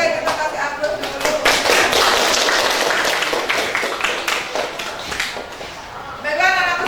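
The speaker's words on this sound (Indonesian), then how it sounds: "kita kasih aplaus dulu" Schoolchildren in a classroom breaking into applause, a burst of many hands clapping that swells loudly, holds for several seconds and then fades, with voices mixed in near the end.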